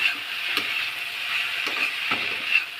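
Malabar spinach stems with salt and turmeric fry in a pan, giving a close, steady sizzle punctuated by a few brisk scrapes of a stirring spoon.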